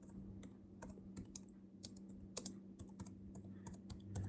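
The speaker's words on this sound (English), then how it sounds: "I'm just typing that in the chat." Quick, irregular clicks of typing on a computer keyboard during a live stream, close and fairly faint over a low steady hum, with no talking.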